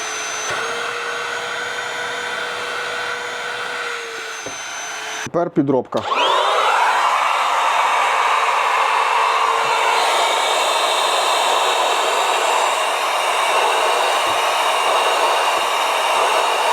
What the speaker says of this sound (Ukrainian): хочу вам продемонструвати, як е, два пилососи тянуть